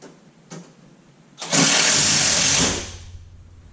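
A power screwdriver drives a screw into the perforated frame of a media filter rack, with two short taps, then a loud whirring burst of about a second and a half that winds down.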